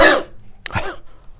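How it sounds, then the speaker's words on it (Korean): A pastor reading scripture aloud in a Baptist church sermon gives a short throat-clearing cough after a louder burst at the start, close to the microphone, with no words spoken. "자꾸 기침이 나오려고 그러네."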